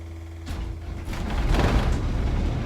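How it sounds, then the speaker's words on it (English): A 3-cylinder diesel generator engine on a red bus cranking and catching after long downtime, a mechanical clunk followed by a rising, rumbling start that settles into a steady run. "That's a 3-cylinder diesel engine, and then it'll start automatically."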